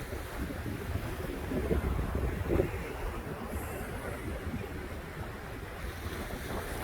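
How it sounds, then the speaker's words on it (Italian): Sea waves on the shore at Jesolo beach on a cool, breezy March day, a steady wash of surf with gusting wind buffeting the microphone, no voices. "Questo è il mare di Jesolo."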